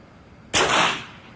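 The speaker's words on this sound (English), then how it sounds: "Now for the unsuppressed air rifle." A single unsuppressed air rifle shot, one sharp loud crack up close followed by a brief decaying hiss after a quiet lead-in.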